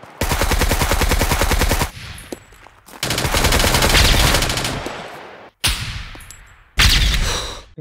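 Loud automatic gunfire in the video game SCUM comes in long rapid bursts, separated by short pauses with ringing echoes tailing off, and one brief final burst near the end.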